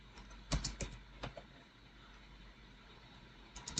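Quiet keystrokes on a computer keyboard come in short scattered bursts while code is being written, with pauses of near silence between clusters of clicks.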